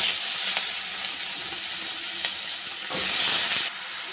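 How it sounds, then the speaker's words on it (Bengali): Spices with dried red chilli and bay leaf sizzling in hot oil, then vegetables going in, a steady close hiss with a few brief clatters and a louder burst of sizzle near the end. "মশলাটা ভাজা হয়ে গেছে, সবজিটা দিয়ে দেবো।"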